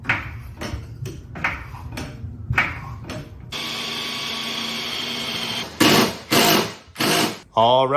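A power screwdriver drives screws into a NINTE side skirt on a 2020-2023 Chevy Corvette C8, giving several short, loud whirring bursts near the end after a long steady hum and scattered clicks, with people talking.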